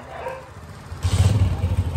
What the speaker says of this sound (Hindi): ये कुत्ते भी आ गए यार